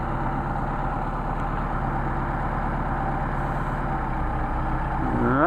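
A Mercedes 190SL engine on Solex carburetors idles with a steady, smooth, close rumble, then revs up briefly at the very end.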